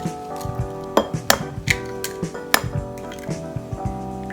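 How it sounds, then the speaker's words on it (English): Eggs are cracked against a hard edge into a bowl for egg fried rice. A few sharp, close clinks and taps sound in irregular succession over a steady tonal music bed. "Crack the eggs."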